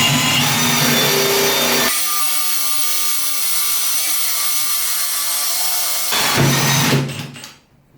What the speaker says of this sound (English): So now we're going to use a 25 mil hole saw, and we're going to take out our latch positioning.